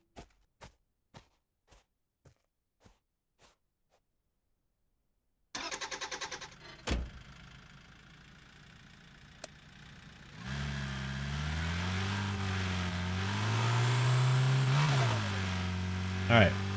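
Car in the driving game Drive Beyond Horizons: footsteps give way to a door, then an engine starts and settles into a rising, revving drone as the car pulls away and accelerates.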